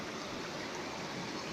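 Stream water flows in a steady, continuous rushing wash, close and even throughout, with no voices.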